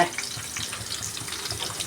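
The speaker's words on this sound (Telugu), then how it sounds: "చూడండి మనం ఇక్కడైతే పోపు వేసుకున్నాం అనమాట బెండకాయ ఫ్రైకి" Spices tempering in oil for an okra fry sizzle quietly and steadily, a soft crackling fry heard close with faint kitchen clatter.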